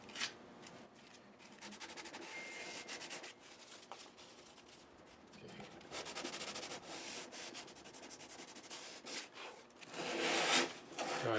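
A 10-string classical guitar is sanded by hand with 400 grit sandpaper: quiet, uneven rubbing strokes in irregular bursts, some fuller and louder near the end, with no talking.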